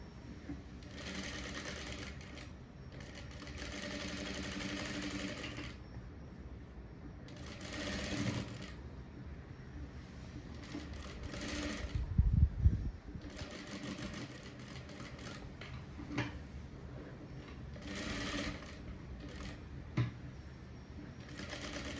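A sewing machine stitches a blouse with a back-neck design, running in steady whirring bursts of several seconds separated by short pauses, close and clear, with a few handling knocks between runs.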